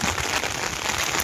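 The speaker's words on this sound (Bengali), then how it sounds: "বৃষ্টি নামে আছে" Steady rain falls during fishing with a China net, a dense, even hiss of drops that fills the short stretch without pause.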